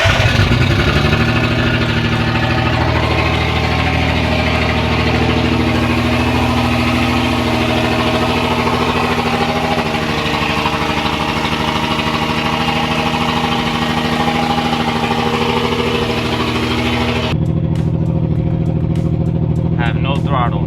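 A Nissan Skyline R32's engine runs steadily close by as the car is moved, with a continuous droning idle throughout and a brief shift in tone near the end.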